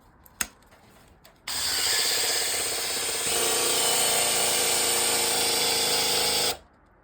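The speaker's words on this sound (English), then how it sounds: "Drill's getting weak, but as you see, we are getting oil pressure already." A power drill spins steadily for about five seconds while priming the oil pump of an LT1 engine, giving a loud continuous whirring grind with ratcheting mechanical texture. It starts abruptly after a brief clunk and cuts off cleanly.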